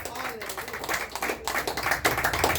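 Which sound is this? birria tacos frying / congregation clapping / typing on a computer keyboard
congregation clapping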